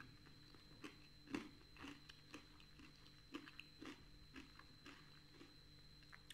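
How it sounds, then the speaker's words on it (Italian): Crunchy crab claws are bitten and chewed close to the mic in a quiet room, with a series of soft cracks and crunches at an irregular pace over a low hum. "Della croccantezza di questa chela."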